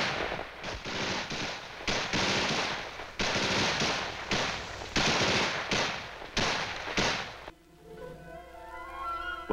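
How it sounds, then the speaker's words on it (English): Combat gunfire in Vietnam, with mortars and small arms, dense loud volleys of rapid crackling shots in repeated bursts, ending with a sudden cut to a different tonal sound. "the Viet Cong hit them with mortars and harassing small arms fire"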